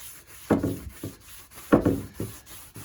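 Wood stain being rubbed by hand into a routed wooden edge: a rough, scratchy friction that rises and fades in a few uneven strokes, close by and fairly quiet, with no talking.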